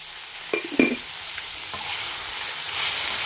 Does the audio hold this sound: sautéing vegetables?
yes